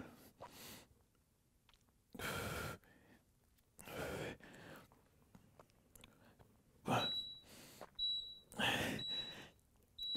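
A workout timer gives short electronic beeps late in the session, several in quick succession, heard among breathy effort sounds from a chair workout, quiet overall.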